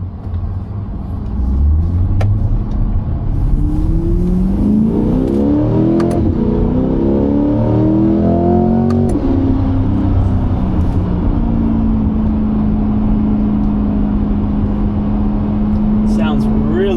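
C8 Corvette engine with a new exhaust, loud and close, revving up in a rising sweep and settling into a steady drone, heard from the cabin while driving.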